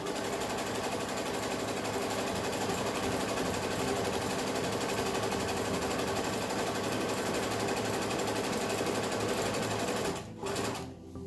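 A sewing machine stitches a pillow at a fast, steady rapid-fire hum that runs continuously for about ten seconds, then stops abruptly and briefly restarts near the end.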